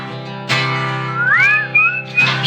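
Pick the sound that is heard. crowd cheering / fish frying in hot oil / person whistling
person whistling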